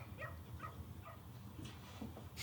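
Several dogs bark and yip in short bursts in a scene from the TV show Lucifer, fairly faint against a low background hum.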